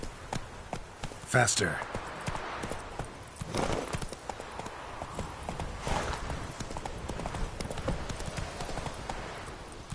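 Roach, the horse in The Witcher 3, gallops with a rapid, driving clip-clop of hooves that runs steadily throughout, while someone speaks over it and urges the horse on.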